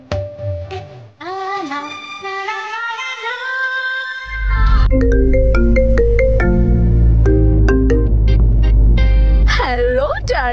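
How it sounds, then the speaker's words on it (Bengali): An outgoing phone call rings loudly with a bright melodic ringtone, played over a dramatic music score in a Bengali TV serial scene; no one speaks during the ring. "মল্লিকাকে একটা ফোন করি তো"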